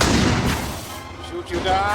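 Gunfire aimed at an aircraft in a film scene, a loud booming burst at the start fading into rumbling echoes, with a voice speaking over it toward the end.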